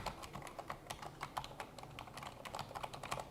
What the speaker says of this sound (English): Let's take a quick listen as I pretend to type here.